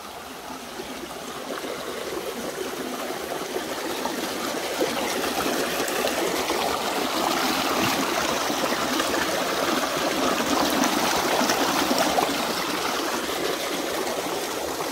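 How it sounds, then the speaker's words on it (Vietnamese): A mountain stream near Ho Tien flows in a steady, broad rush of water, with a constant close hiss and gurgle that swells slightly and then holds level throughout, with no voices heard. "Có con suối."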